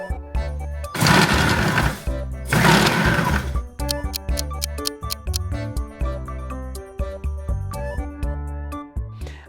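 A Moulinex iCompanion food processor with its chopping blade crushing ice cubes, two loud grinding bursts followed by clattering, rattling chunks knocking around the bowl, no talk.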